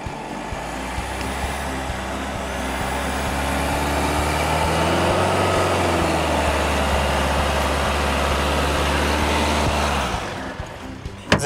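A 2020 Kia Sorento's engine drones steadily on sand, the revs swelling slowly and holding loud and near before dropping away at the end.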